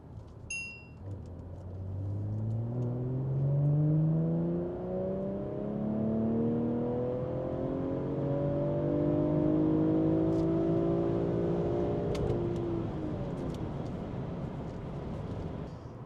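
BMW G14 840i with a B58 engine, stage 2 remap, catback exhaust and 200-cell downpipe, revs hard through a dyno pull, its note climbing steadily through the gears over about twelve seconds before falling away, loud and alone.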